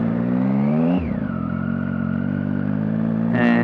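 A 2015 Triumph Street Triple Rx fitted with a Coffman's exhaust rides on the road. Its loud, steady engine drone drops in pitch after a gear change, then climbs again in a short rev at the end.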